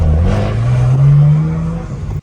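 A 2008 BMW 335i pulling hard on a night run, its engine note rising steadily and loudly from inside the car before cutting off.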